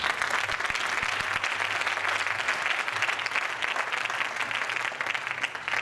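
A church congregation applauds in a steady, even wash of clapping that continues without a break, fairly close and unaccompanied by speech.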